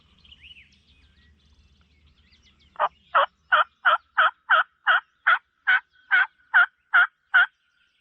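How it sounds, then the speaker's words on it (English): A wild turkey in Ohio's spring woods lets out a string of about a dozen sharp, evenly spaced calls after a quiet start, each note distinct and fairly close against near-silent woods. "see if he keeps gobbling, because he's been gobbling pretty regularly"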